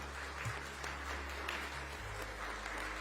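Faint, distant applause patters steadily throughout, a soft wash of many hands clapping with no voices standing out.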